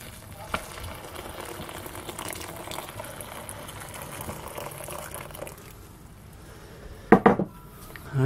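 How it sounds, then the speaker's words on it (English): Hot water poured into a Backpacker's Pantry Louisiana Red Beans & Rice dehydrated meal pouch, a low, steady rushing pour ending in a brief clattering rustle. "So we'll put our hot water in here"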